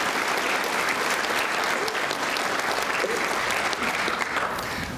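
Audience applause at the Muscogee (Creek) Nation State of the Nation address, a loud, steady, continuous round of clapping from a large crowd throughout.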